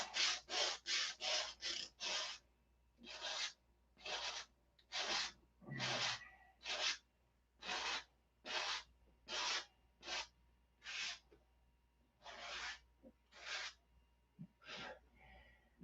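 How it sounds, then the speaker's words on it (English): A piece is sanded into shape by hand, a steady series of about twenty close, raspy strokes in an even rhythm with short pauses between them. "I've sanded this piece into a shape like this."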